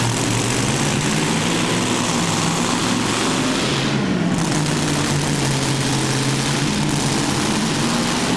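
A pulling tractor with a huge multi-engine setup of up to 9,000 horsepower fires up inside the IJsselhallen arena in Zwolle, a loud, constant roaring drone with deep throbbing tones, no talking heard.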